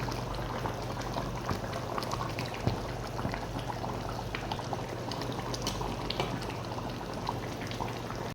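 Whole cinnamon and cardamom sizzle in hot ghee, a steady crackling bubbling with scattered pops, close and even throughout, no voices.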